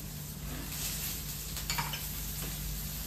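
Capsicum and paneer fry together in a pan over a low flame while being stirred, giving a steady, close sizzle with soft scraping movements and no talking.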